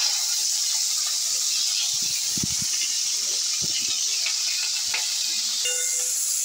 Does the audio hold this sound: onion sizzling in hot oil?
yes